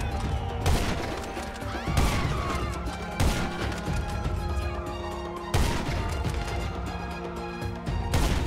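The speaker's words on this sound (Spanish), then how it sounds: "No saben de dónde vienen los disparos, así que todavía no se mueven." Shootout in GTA 5 during a military raid, with loud gunshots cracking out at irregular intervals over a dense bed of game music and background effects, no talking.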